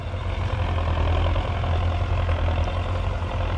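A Belarus 1025 turbo tractor engine runs close by with a steady, heavy low rumble and a constant diesel drone, no voices over it.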